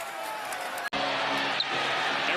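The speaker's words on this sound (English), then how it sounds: "Listen to the crowd cheering for it." Basketball arena crowd cheering loudly and continuously, a broad sustained roar with a brief cutoff near the start, then the din resumes with a sharp squeak or thump amid it.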